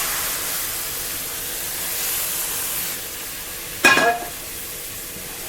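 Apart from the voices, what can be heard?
cooked milk being stirred into besan in the pan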